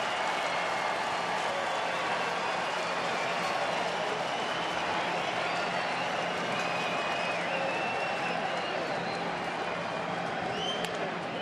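Baseball stadium crowd during a Chicago Cubs at Detroit game, a steady, dense roar of cheering and clapping that holds at full strength throughout, with no break or lull.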